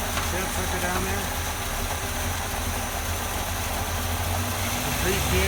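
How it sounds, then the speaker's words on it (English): Car engine with a Carter AFB carburetor idling in a steady low rumble, close by, with someone speaking over it. "Increase the engine idle, brings the vacuum."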